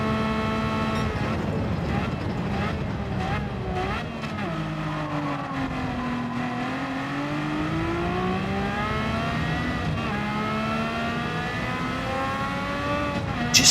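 A race car in the Gran Turismo video game sounds a steady, high-pitched engine note that dips and climbs through the revs, loud and continuous, with no talk over it.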